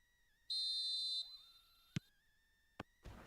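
Referee's whistle blowing at kickoff in the PES football video game: one long, steady, piercing blast, then a sliding electronic tone and a few sharp clicks, clear and isolated with no voices.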